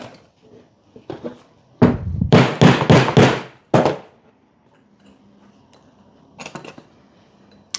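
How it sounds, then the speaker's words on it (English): Hammer blows ring out on a leather punch making a hole in a leather belt: one sharp strike, then a quick burst of four heavy, close impacts, a lone hit after, and a fainter double tap later. "I'll get my hammer."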